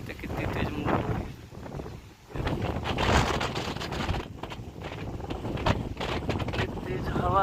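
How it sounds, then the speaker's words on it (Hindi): Strong gusty wind during a heavy rainstorm buffets the microphone in a steady, loud roar with surging peaks throughout, while a person talks over it. "इतनी तेज हवा है कि मुझे पकड़ने में भी बहुत दिक्कत हो रहा है।"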